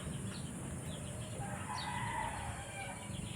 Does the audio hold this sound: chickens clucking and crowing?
yes